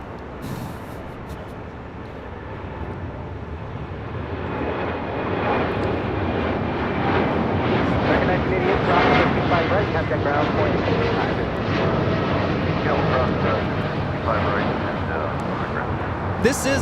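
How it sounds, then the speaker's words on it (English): A United Airlines Boeing 787-10 Dreamliner takes off from Los Angeles airport, its jet engines rumbling loudly and swelling to a sustained roar that holds to the end, while people talk over it. "2614 taking off to Newark on a 787-10 Dreamliner"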